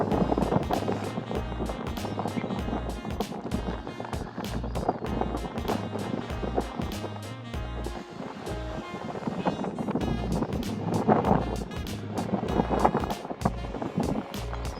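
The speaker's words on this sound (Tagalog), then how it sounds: "sobrang hangin po dito." Heavy wind buffeting the microphone in low rumbling gusts at New Brighton Pier, Christchurch, with crackling bursts throughout and the sea faintly beneath.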